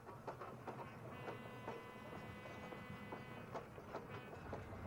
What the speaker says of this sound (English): the little train that spelled fun when its final destination was reached